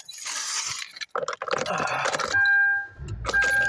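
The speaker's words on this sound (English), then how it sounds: "I got the jingle, the work keys. There's the car keys." A bunch of work keys and car keys jingles and clinks near the microphone, handled in bursts with rustling and short pauses between shakes.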